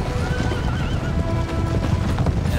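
Cavalry horses in the Empire Total War video game whinny and neigh over a dense, steady rumble of galloping hooves and battle din, loud and unbroken throughout.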